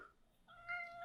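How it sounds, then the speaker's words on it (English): An agitated cat lets out a single drawn-out meow, faint and close, with no voices. "an agitated cat."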